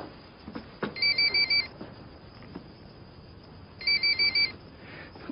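A mobile phone rings in two separate bursts of rapid, repeated electronic beeping tones, fairly clear in a quiet room with faint background noise between the rings.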